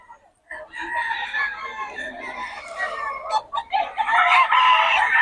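Gamefowl roosters on a farm crow and cluck loudly and almost without pause, several birds overlapping close by, with one short dip in the middle.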